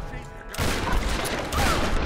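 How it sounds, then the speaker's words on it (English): Gunfire in the 2013 Tomb Raider video game at a monastery, a dense loud burst of rapid shots that cuts in sharply after a quieter moment, with a possible voice under the firing. "Stop shooting me!"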